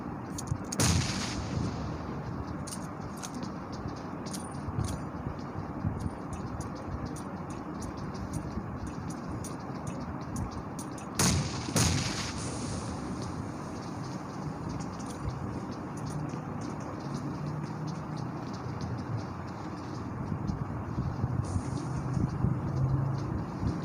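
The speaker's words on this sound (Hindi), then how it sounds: "ग्रेनेड का इस्तेमाल करते हुए" A PUBG Mobile firefight with grenade explosions and gunfire: a dull booming rumble underlies sharp cracking shots that come in clustered bursts, with a couple of louder blasts standing out. No one speaks.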